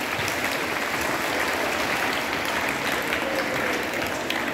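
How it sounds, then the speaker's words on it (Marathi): Audience applause at an Independence Day school programme, a steady, dense clapping that fills the whole stretch evenly without pause, with faint voices underneath. "सगळ्यांसाठी टाळ्या वाजवा"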